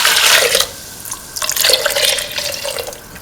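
Coconut milk pours into a pan while cooking pumpkin and ivy gourd rice, making a loud, close liquid splash and trickle in two bursts with a short pause between them.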